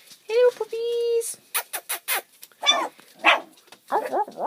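Four-week-old puppies yip, bark and whimper up close, with high whines and a string of sharp little barks in quick bursts, while a person's voice talks among them.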